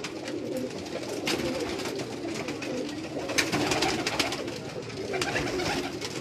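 Pigeons on a Karachi rooftop coo repeatedly, soft throaty calls over a busy, noisy outdoor background, with no talking.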